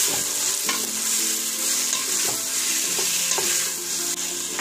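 Carrots cut into rounds and diced potatoes fry and get stirred in a pot for Turkish lentil soup, a steady close sizzle broken by scraping, clinking stirs, with no talking.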